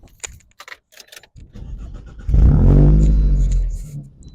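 Car engine cranks and catches after an exhaust modification, preceded by keys jangling and clicks, then settles into a loud, steady low idle rumble close by.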